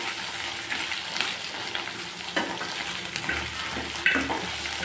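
Vegetables for sambar frying in a pan, a steady broadband sizzle with occasional crackles and stirring scrapes, close and moderately loud with no talk.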